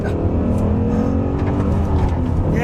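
A 2002 BMW M5 E39 accelerates hard, its engine roar steady and loud throughout, heard from inside the car.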